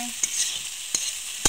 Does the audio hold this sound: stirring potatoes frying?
yes